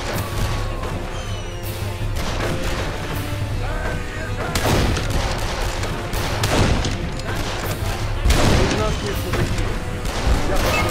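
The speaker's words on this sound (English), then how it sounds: "I'll use the German rifle, because that is usually a one-shot kill" German rifle fire in Darkest of Days, loud sharp cracks and booms repeating irregularly amid battle din and further gunfire, with a voice talking underneath.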